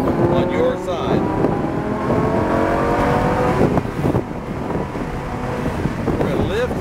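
A Lamborghini Huracan accelerating hard on a track, its engine roaring and climbing through revs under heavy wind buffeting on the microphone, with an instructor's voice talking over it.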